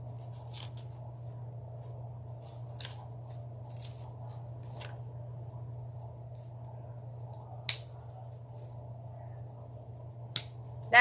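Scissors snip through deco mesh for a scarecrow wreath in a few sharp, isolated clicks over a steady low hum, with faint crinkling between cuts.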